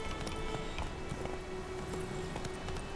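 Horse hooves clip-clop at a steady running pace in The Witcher video game, a continuous rhythmic patter of hoofbeats under a constant background hum.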